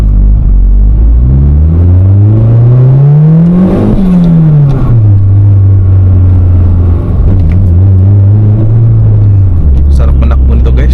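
Honda City Turbo project car driving, its engine loud and close with a rising rev to a peak, then a drop and a steady cruising drone.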